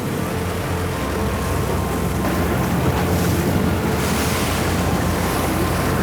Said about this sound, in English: the wind was blowing a little harder than we expected